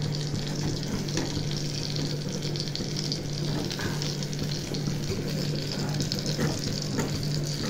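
Green chillies frying in a home kitchen pan give a steady, even sizzle and hiss throughout, over a faint low hum, with no talking.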